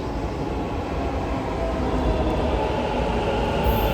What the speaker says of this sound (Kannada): ಟ್ರೈನ್ ಬಂತು.